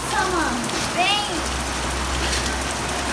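Steady rain falling outdoors, a broad continuous hiss that fills the whole stretch, with brief voices rising above it.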